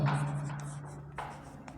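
A pen writing an answer in a notebook during a maths lesson: a soft, continuous scratching close by, with a couple of brief louder strokes, over a steady low hum.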